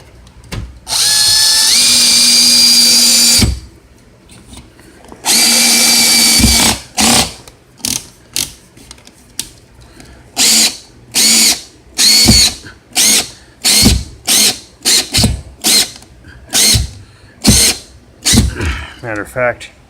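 A power drill drives 3-inch screws into an HVAC mounting plate: two long, loud whirring runs, then a dense series of short, sharp bursts in a rapid stop-start rhythm, close by and with no talk over it.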